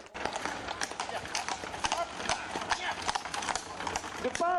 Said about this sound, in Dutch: De paarden, Friese paarden